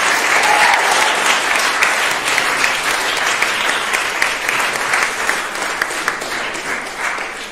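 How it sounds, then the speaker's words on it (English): An audience at a school inter-house music festival applauds, with loud, dense clapping sustained throughout and tapering slightly toward the end. "could we all give each other a huge round of applause?"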